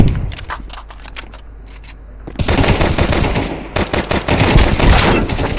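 Rapid Glock pistol gunfire in the video game CS:GO 2, light shots at first, then a loud, dense burst of overlapping shots and impacts that keeps going to the end.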